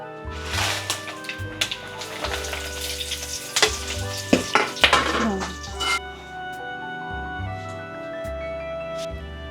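Onions sizzle and fry in a hot pan with occasional stirring, loud at first and then settling into a steadier, quieter crackle, while someone talks over the cooking.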